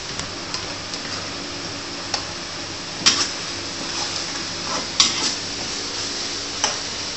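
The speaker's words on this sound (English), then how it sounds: "we keep on stirring for this pongteh." Babi pongteh, a Peranakan pork stew, is stirred in a pot on the stove, with a low simmering hiss and occasional sharp clinks of the utensil against the pot, close and moderate, no talking.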